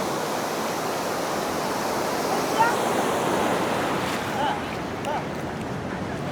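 Sea waves wash ashore at Kanniyakumari in a continuous broad roar of surf, loud and close, with a slight swell midway and no talking.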